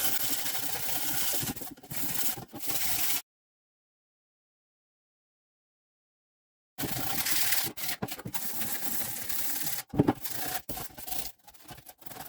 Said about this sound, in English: So we're just going to rough it up a little bit with some emery cloth.